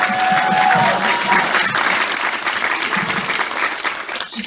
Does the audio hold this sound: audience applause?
yes